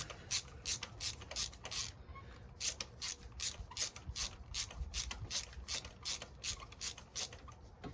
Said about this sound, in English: grab your ratchet and run her down